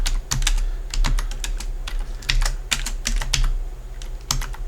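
Computer keyboard keys tapped in quick bursts of crisp clicks while text is entered in SketchUp, close and clear, with short pauses between groups of keystrokes over a faint low hum.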